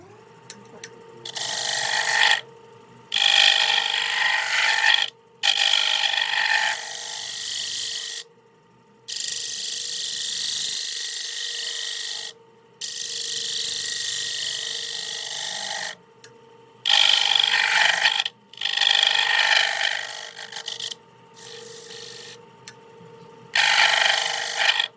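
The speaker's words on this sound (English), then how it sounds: "I decided to give my negative rake scraper a try here." A negative rake scraper on an ambrosia maple bowl spinning on a lathe gives bursts of bright, hissing scraping, cut by short pauses, over a steady motor hum.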